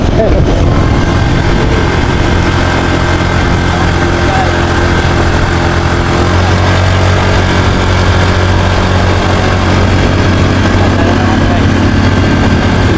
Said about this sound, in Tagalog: Para mas mabilis yung motor eh.